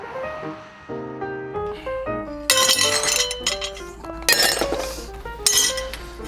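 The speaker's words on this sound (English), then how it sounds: "why is it us that has to clean up all this fucking glass?" Broken glass clinks and rattles as it is cleaned up, several bright bursts of clinking shards standing out over sustained musical tones.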